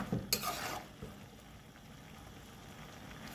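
Spaghetti being stirred and mixed together in a pot for Haitian spaghetti, a burst of wet scraping and clinking near the start, then a quieter sizzling, shuffling tail.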